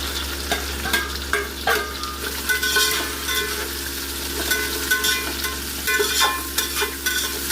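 Onions and green chillies sautéing in a pan for a soya chunks biryani, with a steady close sizzle and repeated scraping stirs from a spoon, continuous and clear with no voices.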